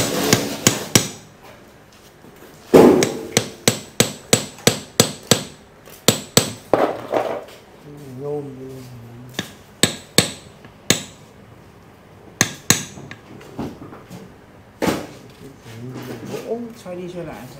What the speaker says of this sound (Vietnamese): Lấy búa 5 cân mà dã anh.